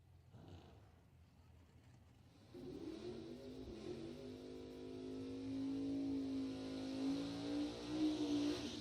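Bracket drag racing cars launch and accelerate down the strip, first quiet, then a sustained loud engine drone that climbs in pitch and holds, heard from some distance without talk.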